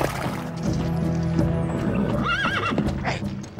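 A horse whinnies loudly with a rising, wavering neigh amid steady clip-clop of hooves and background commotion, with voices faintly mixed in.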